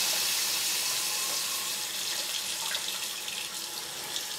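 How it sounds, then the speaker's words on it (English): Water runs steadily from a hand-operated medical-type faucet into a kitchen sink, a continuous close hiss and splash with no voices over it. "they're a medical type faucet where you can just turn them on with your hand."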